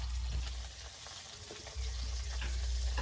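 Fish frying in a pan at a street food stall in Kolkata makes a steady low crackling sizzle with faint clinks and background bustle.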